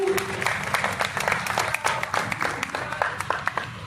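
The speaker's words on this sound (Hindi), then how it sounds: "जिसने किया उसके लिए तालियां तो बजा ही सकते हो।" Audience applause at a large Jain diksha ceremony on Jaipur's Ramlila Maidan, a dense crackle of many hands clapping steadily throughout, with some crowd murmur beneath.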